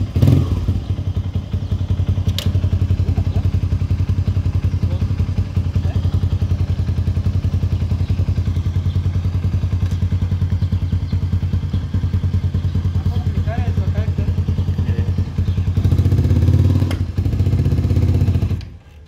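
A Vortx 200 motorcycle idles with a steady low engine rumble, close and continuous, with a few clatters and a brief rise near the end, while people talk faintly nearby.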